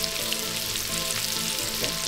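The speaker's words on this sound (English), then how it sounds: "Let's deglaze this with some more wine." A pan of homemade stroganoff sizzles steadily as wine is poured in to deglaze it, giving a dense, continuous hiss with a faint bubbling undertone and no talking.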